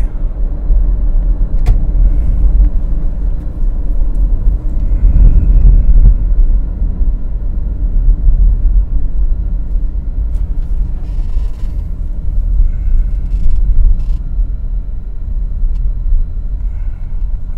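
Car with an automatic gearbox running on a test drive for a P-to-D shift fault, a steady low engine and road rumble throughout, fairly loud and close with no talking.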